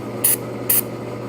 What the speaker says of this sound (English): and now spray with HCF, heat, corrosion, friction.